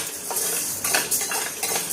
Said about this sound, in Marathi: आणि हा साबुदाणा भाजताना एकदम कमी गॅसमध्ये भाजायचा आहे.